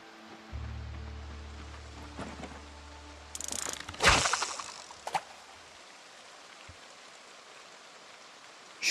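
Evening rain in a fishing video game falls as a soft, quiet patter, broken by a few mechanical clicks and a brief louder splash-like burst near the middle; no one speaks.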